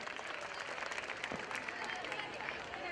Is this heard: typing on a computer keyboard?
no